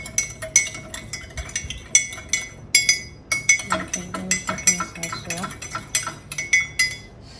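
A spoon clinks rapidly against a glass jug while stirring water, a quick run of bright metallic taps with a faint swirl of water underneath.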